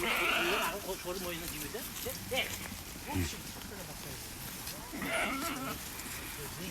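Afghan sheep, large animals, bleat repeatedly, a chorus of overlapping calls from a flock at moderate distance, with people talking over them.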